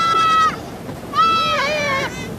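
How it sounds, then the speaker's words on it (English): Two wavering goat bleats, one short and one longer, sound close and loud over a steady background rumble. "And we have goats, of course,"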